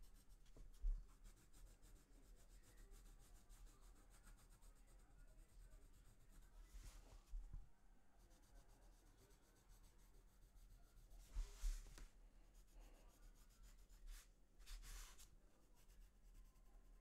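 Pencil drawing on paper for a cartoon yellow cat and tree, soft scratchy strokes in a few brief bursts over a faint steady hum, close and quiet, no talk.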